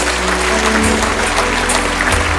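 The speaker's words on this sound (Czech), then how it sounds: "Chci, abyste zatleskali pánu, protože toto je zázrak" A church congregation claps loudly and steadily, with dense applause that fills the whole stretch without any talking.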